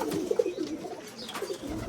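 Domestic pigeons cooing on a farm, soft low throaty coos repeating close by over a faint background.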